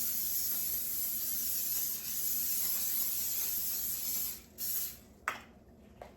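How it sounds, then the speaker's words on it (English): Vegetable oil sprays in a continuous soft hiss for several seconds, pauses briefly, then a couple of short final bursts follow before it stops. "I'm also going to spray these with a little bit of cooked vegetable oil."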